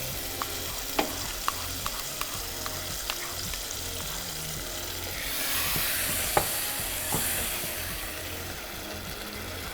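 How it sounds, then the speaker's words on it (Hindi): Yogurt is stirred into frying okra masala (achari bhindi) made with gram flour, giving a steady close sizzle with repeated utensil scrapes and taps against the pan, and the hiss swells midway. "ये दही ऐड करेंगे।"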